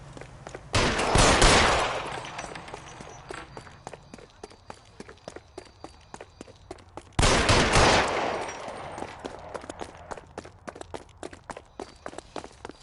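Gunfire in the video game L.A. Noire: two loud, sharp blasts about six seconds apart, each trailing off in a long echoing decay, with quick running footsteps pattering between them.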